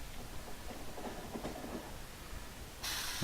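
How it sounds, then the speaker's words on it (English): Train driven in Factorio, a quiet steady rail rumble with faint hiss and soft clatter, rising into a brighter, louder rush for the last half second. "if I can drive this train properly"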